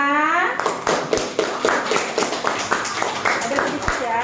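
Hand clapping from a few people during a children's reading session, a run of sharp, close claps after a short voice at the start, with speech-like sounds mixed in.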